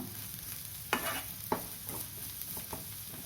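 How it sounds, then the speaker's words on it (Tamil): Ridge gourd peel sautéing in oil in a pan, a soft, steady sizzle broken by several sharp scraping knocks as a spoon stirs it, with no voices. "பீக்கங்காய் தோல் வதங்க கொஞ்சம் நேரம் ஆகும், நிதானமாக வதக்கணும்."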